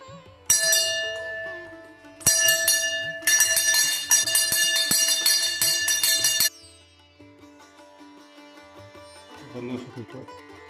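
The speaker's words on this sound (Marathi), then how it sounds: "देवाले घंटी वाजवतो" A bright metal temple bell rings out in a few clear strikes, each ringing on and decaying, followed by quieter shuffling and a faint voice nearby.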